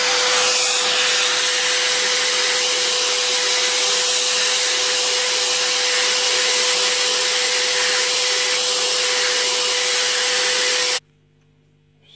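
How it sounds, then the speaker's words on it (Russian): A hammer for paintless dent repair being polished with a felt disc on a power tool, a loud continuous whirring drone with a steady tone that runs evenly for about eleven seconds and then stops abruptly. "берем фетровый кружочек и полируем, пока не заблестит"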